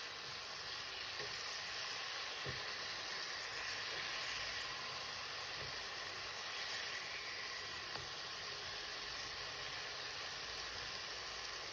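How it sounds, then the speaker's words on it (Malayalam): Eggplant slices fry in a pan with a steady, soft hiss of oil, broken by occasional faint pops and crackles; nobody speaks. "അപ്പോഴത്തേക്ക് നമ്മുടെ കത്തിരിക്കേൻ്റെ ഒരു സൈഡ് പൊരിഞ്ഞ് വന്നിട്ടുണ്ട്."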